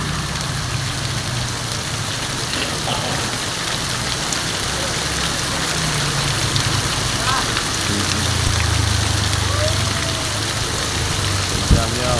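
Very heavy rain pours steadily and loudly on a road during flooding, a dense continuous roar with a passing vehicle rumbling underneath and brief faint voices.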